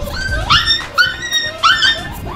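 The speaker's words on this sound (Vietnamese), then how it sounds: "các em chó Phú Quốc" Several Phu Quoc dog puppies yip and whine in rising, high-pitched bursts, close by, with about three quick cries over a couple of seconds and soft rustling between them.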